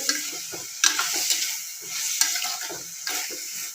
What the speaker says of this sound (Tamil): கடுகு பருப்பு, வெங்காயம், தக்காளி எல்லாம் போட்டு பாவக்காயெல்லாம் போட்டு நல்லா தாளித்து விட்டு